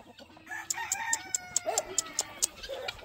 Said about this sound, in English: Rooster! Leave him alone, Juju.